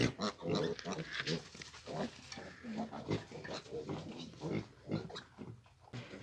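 Busy squeals and grunts from several 10-day-old Vietnamese piglets, close by and overlapping in a continuous jumble with no pauses.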